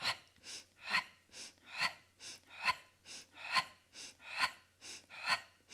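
Forceful pumping breaths during a foam roller ab workout, a steady rhythm of sharp, close exhalations about one every half second, each followed by a quick inhale, with no talk.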